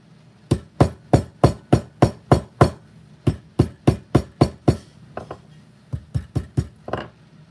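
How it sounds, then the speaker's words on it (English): A small hammer smacks a capacitor repeatedly to pop its end off, giving about twenty sharp metallic blows in quick, steady rhythm, then a brief pause with faint rustling before a final burst of strikes, close and loud. "Let me see if I can just smack it with a little hammer."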